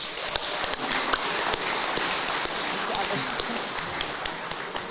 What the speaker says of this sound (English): Please give a warm round of applause to our trophy kaitiaki, Lachlan and Jacob from Wellington College.